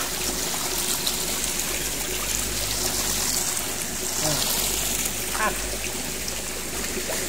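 Cold water trickles and splashes over a dog being bathed outdoors at a spring, a continuous close pouring sound with faint background noise.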